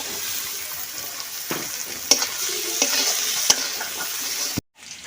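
Chopped garlic goes into browned onions frying in a pan for a village-style country chicken curry, producing a loud, steady close-up sizzle with a few sharp stirring clacks before it cuts off abruptly.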